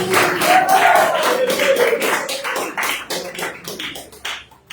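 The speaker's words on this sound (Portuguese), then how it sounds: "Palmas de glória a Deus. Mais alegre as palmas." A church congregation claps along in quick, steady rhythm, the sharp claps dense and close, with a sustained voice or tone running beneath during the first half before the clapping thins toward the end.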